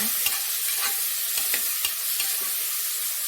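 Okra dry-frying in a pan without oil crackles with a steady sizzle, broken by regular scraping strokes of a spoon stirring through it, close and even throughout.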